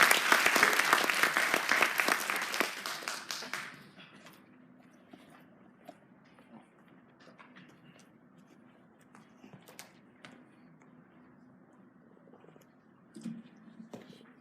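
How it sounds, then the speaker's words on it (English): Audience applause at a university event greets the vice chancellor's welcome speech, loud and dense for about four seconds, then dropping to a quiet room with scattered faint noises. "Round of applause,"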